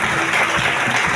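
A church congregation bursts into dense, loud applause that carries on for the whole short moment, close and continuous, with some voices mixed in.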